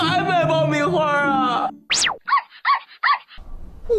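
A cartoon puppy gives a short run of high, springy yips after a voice speaks, each bark brief and bright, with a quick boing-like slide between.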